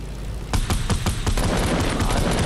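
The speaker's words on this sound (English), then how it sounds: "There they are. They're shooting at me." Enemy gunfire in a shooter video game, a rapid burst of close, loud shots in quick succession that blends into a dense, continuous rattle.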